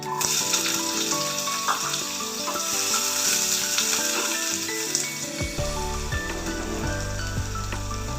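Onion fries in a pan for a village-style greens and cowpea saaru, giving a steady, close sizzle with occasional stirring clatter and a heavier rumble coming in near the end.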